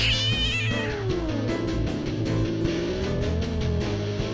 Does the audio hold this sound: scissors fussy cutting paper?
no